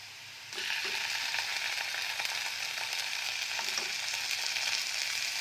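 Onions and ginger-garlic paste start frying in a pan for a soya chunk curry. The hiss jumps in suddenly as the paste hits the oil, then holds at a loud, even sizzle with faint stirring clicks.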